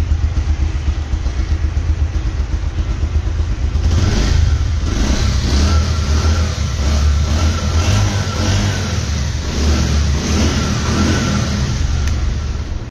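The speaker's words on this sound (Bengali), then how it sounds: "গাড়িটির সাউন্ড তো খুবই ভালো আছে" A Bajaj Pulsar 150 motorcycle engine, close and loud, idles with a throaty pulsing beat and then revs up in repeated surges before settling back, with no voices.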